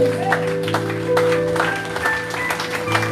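A church congregation at a Sunday service claps loudly together, a dense, continuous patter of applause with voices mixed in underneath.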